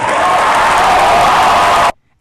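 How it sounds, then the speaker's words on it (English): A crowd cheers and applauds in a dense, loud wash of clapping and roaring that holds steady for about two seconds and then cuts off abruptly into silence. "And the crowd goes wild"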